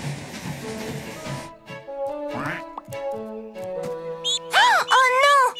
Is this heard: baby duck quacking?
yes